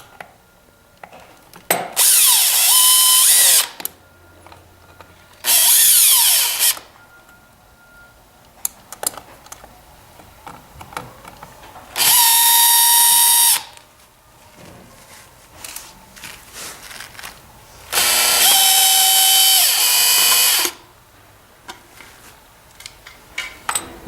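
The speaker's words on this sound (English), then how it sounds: "we'll use a Phillips head screwdriver to remove the 4 screws that secure the cable junction box cover" A Phillips screwdriver, apparently powered, backs out the four screws on a cable junction box cover of a ZeroG 3.0 massage chair footrest actuator: four loud whirring bursts separated by quieter clicks and handling noises.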